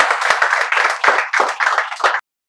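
Applause from an audience welcoming students at a live spoken English class: a dense, steady burst of many hands clapping close by for about two seconds, then an abrupt stop into silence.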